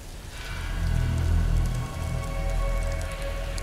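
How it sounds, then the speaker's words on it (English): Rain in the survival game Soulmask, a steady wash of falling drops on surfaces that swells and dips slightly, continuous and fairly loud with no talk. "And it's now raining outside."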